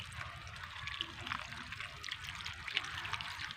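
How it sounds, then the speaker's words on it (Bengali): Water pours into a pan of pumpkin and potato curry, giving a faint, steady trickle and splash up close with a low background hum. "এবার জল দিয়ে দেব কুমড়ো আর আলু সেদ্ধ হওয়ার মতন আমি জলটা দিচ্ছি"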